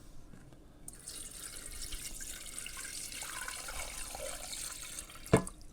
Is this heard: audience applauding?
no